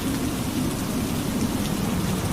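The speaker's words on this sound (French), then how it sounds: "Dieu lança sur la mer un vent violent, une grosse tempête." Steady, dense rain pours in a storm at sea, with low thunder rumbling throughout; a continuous, fairly loud wash of rainfall with no voices.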